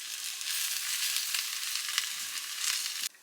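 Onions, grated coconut, bay leaves, kaffir lime leaves, cumin seeds and spices frying in a pan: a steady loud close sizzle with light stirring scrapes, cutting off abruptly at the end.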